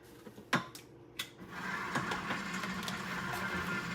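An electric mixer runs at low speed through cake batter as milk and flour go in a little at a time. A couple of clunks come first, then a steady, moderately loud whirring hum with no talk.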